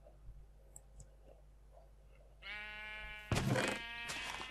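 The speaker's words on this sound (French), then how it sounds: "Je vais essayer de tondre les moutons." Sheep bleating in Minecraft, a few short game bleats rising loudly near the end after quiet clicking, with a second louder burst of bleats that carries on to the close.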